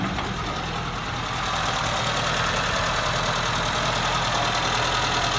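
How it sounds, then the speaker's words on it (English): Small Suzuki engine fitted in a 1951 Crosley 4x4 wagon, running at a steady idle with a close, loud, even mechanical drone and slight knocking vibration that swells a little after the first second. "Little Suzuki engine, fit in there nice."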